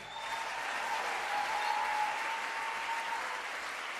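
A church congregation claps in a broad, steady wash of applause that swells slightly and holds for a few seconds, sounding reverberant, with no speech over it.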